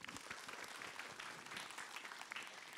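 Audience clapping at an Islamic talk event, a soft, fairly distant patter of many hands lasting a few seconds without speech.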